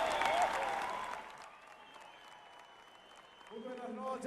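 Audience at a concert in Medellín, Colombia, applauding in a dense burst that thins out before voices and music return near the end.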